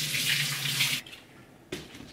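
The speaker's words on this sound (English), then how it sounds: "I'm just gonna like rinse off a few at a time" Tap water running over Brussels sprouts being rinsed in a kitchen sink, a loud close gush that cuts off, then a brief splash burst after a short pause.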